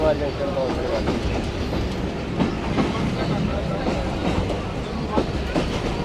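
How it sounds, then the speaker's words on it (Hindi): The Musa Pak Express railcar rolls steadily toward Khanewal Junction station, with a loud continuous rumble and rhythmic clickety-clack of wheels over rail joints from inside the carriage, unbroken throughout. "हमारी ट्रेन ने अप्रोच बना ली है जी खानेवाल जंक्शन रेलवे स्टेशन पर"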